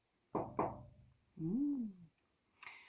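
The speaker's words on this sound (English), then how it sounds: "Listen for their knocking." Cornish knocker, sounding as two sharp close knocks in quick succession, followed by a brief tonal swell and a faint final tap, in a quiet room.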